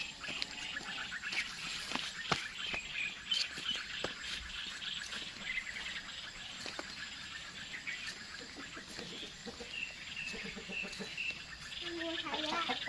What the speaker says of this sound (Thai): จะพาไปดูไก่ครับ